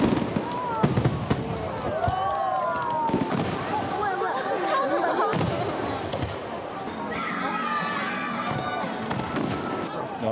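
Fireworks crackle and pop through an autumn festival night in a park built on an industrial reservoir in Ulju, Ulsan, with bursts coming steadily beneath a constant murmur of a chattering crowd.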